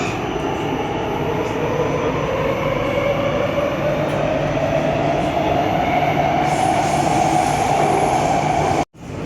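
Steady rumble and rattle of a Warsaw Metro line M1 train in motion near Służew station, with a rising whine as it gathers speed, loud and continuous throughout.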